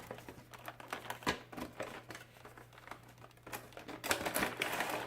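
A counterfeit Bandai Majin Boo figurine is unboxed from its protective packaging, giving continuous close crinkling and rustling with quick clicky snaps, fairly quiet.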